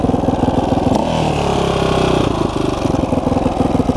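A KTM motorcycle engine runs close and loud, with a throaty idle that swells into a brief rev around the middle and then settles back to a pulsing idle, with no talk.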